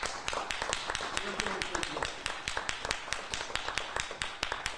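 Audience clapping at a press conference for The ReManned Project, a steady run of individual sharp claps from a modest crowd, fairly close, lasting throughout.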